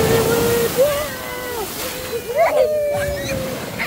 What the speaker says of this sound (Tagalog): Ayan yung wave!